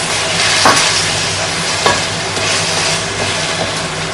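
Egg being stirred and scrambled in a hot pan for pad thai, a loud steady sizzle close up with occasional scraping strokes of a utensil.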